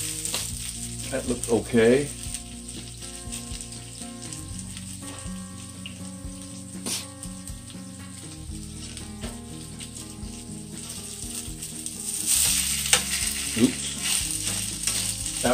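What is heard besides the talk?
butternut squash fritters frying in a pan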